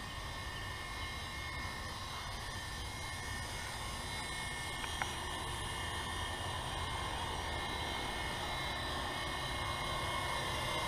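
Steady whirring rotor and motor drone of a Syma F1 remote-control toy helicopter hovering close by, continuous and unbroken for the whole stretch, with no talk.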